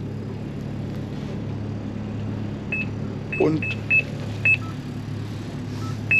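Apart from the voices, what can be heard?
electronic beeping during winter pike fishing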